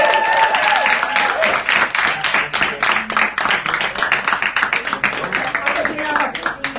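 Loud crowd applause and cheering for a band at a press conference, dense clapping with shouts and voices mixed in throughout.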